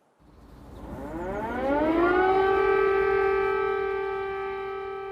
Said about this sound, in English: Air raid sirens in Kyiv